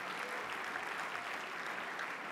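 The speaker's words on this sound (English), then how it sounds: "So a round of applause, please," Banquet guests applaud international participants, a steady, even wash of many hands clapping, fairly faint and distant, with no speech over it.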